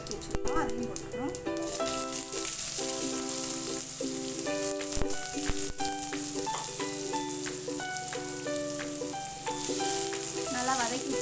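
Two chopped medium onions with half a teaspoon of mustard seeds sizzle steadily in hot oil for a goat blood fry. The faint, continuous hiss sits beneath prominent background music throughout.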